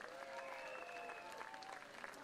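Audience applause at a French patriotic rally, a brief, faint burst of crowd clapping heard at a distance, with a sustained tonal sound running above it.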